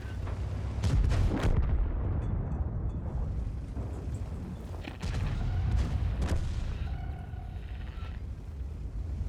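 Heavy cannon blasts from tanks in World of Tanks, the Object 703 II among them: a few loud booming shots with rumbling low-end tails, one near the start and another around the middle, over continuous battle rumble.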